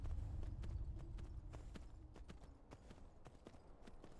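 Horse hooves clip-clop in a quick, steady rhythm in the video game Skyrim, with crisp repeated hoofbeats over a low rumble.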